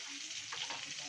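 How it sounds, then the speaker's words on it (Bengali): Potatoes frying in oil in a wok, a steady close sizzle and crackle running throughout, with stirring rising in the middle. "প্রথমে কড়াইতে তেল দিয়ে আলুগুলো দিয়ে দিলাম ভাজার জন্য।"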